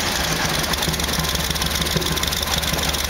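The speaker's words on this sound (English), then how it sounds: "whenever we start it, we'll increase the RPM over the idle so it's smoother and it helps it warm up a little quicker" An engine idles just after start-up, a steady continuous rumble with a faint rhythmic knocking pulse and a high constant whine, unchanging throughout with no voices.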